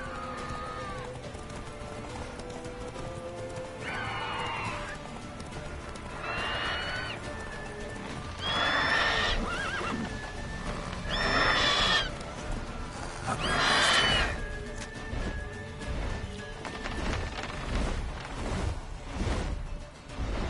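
A horse in The Witcher 3 gallops and neighs, with repeated loud whinnies breaking out over a steady run of hoofbeats and rumble, about five calls spread across the stretch.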